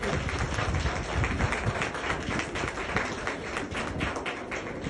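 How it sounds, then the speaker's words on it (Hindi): An audience at a direct-selling motivational speech event claps in a dense, even roar of applause that holds steady from start to finish, with no talking over it. "मैं चाहूंगा अब तक की सबसे जोरदार तालियां होनी चाहिए बीना पांडे जी के लिए"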